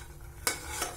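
Dry fruits roasting in a pan for rice kheer, with a soft background sizzle and two quick scraping strokes of a spoon, close but fairly quiet.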